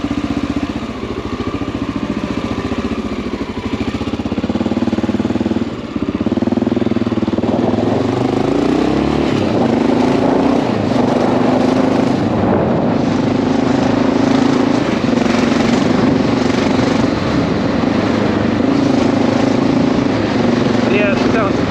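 Honda XR650L motorcycle engine running while ridden on a street, with a suspected valve tap; a steady, loud engine drone rises and falls with throttle throughout, with a person's voice likely mixed in.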